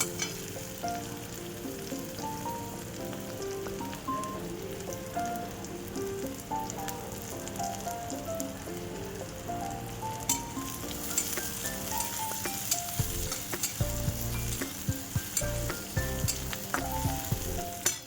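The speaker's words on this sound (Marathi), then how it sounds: "कांदा थोडासा परतलाय आता हिरवी मिरची टाकून घ्यायची" Green chillies and onion fry in hot oil in a pan, giving a continuous close sizzle with crackling bursts and occasional stirring scrapes that grow busier toward the end.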